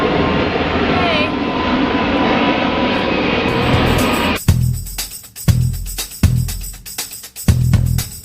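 A loud airplane engine roars steadily overhead, then gives way to several sharp bursts of nearby sound.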